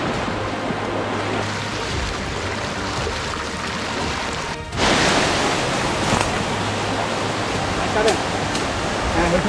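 A swollen monsoon stream rushes along the Jhorjhori jungle trail in Sitakunda, a loud, steady roar of water that grows louder and brighter about halfway through, with faint voices partly buried beneath it.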